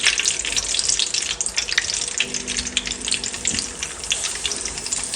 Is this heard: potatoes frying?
yes